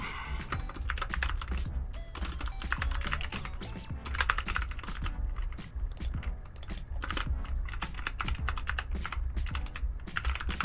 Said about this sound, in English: And now we're gonna start typing out